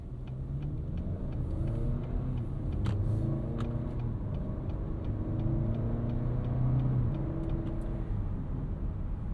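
A 2025 Acura RDX A-Spec Advance SUV with a turbocharged K20 engine and 10-speed automatic cruises along, a steady low engine and road rumble with smooth, gentle rises in pitch as it gains speed and no voices.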